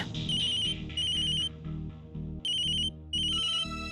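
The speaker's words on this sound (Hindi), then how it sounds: "किसी का फोन आ रहा था बार बार" A phone ringtone chirps in repeated bursts with short gaps, steady and close, over a low rhythmic background tone.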